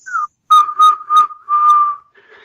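A person whistles a bird-call imitation: a short rising note, then three quick chirpy whistles and a longer sustained one, clear and close.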